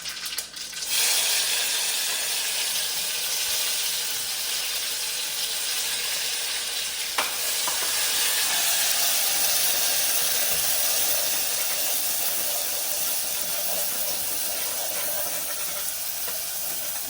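Spice paste hits hot oil with cumin and mustard seeds in a pan on a low flame, giving a broad, steady sizzling hiss that carries on evenly for several seconds with no talking.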